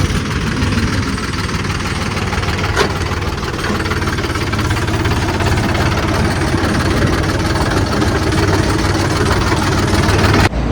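A tractor engine idles steadily and loudly up close in Songadh, a low chugging rumble with a faint rattle that holds even throughout.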